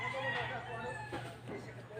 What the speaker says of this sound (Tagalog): Daghan kaing manok kung kanang pangsabong bitaw, puting sa baag, sige lag tugtugaok.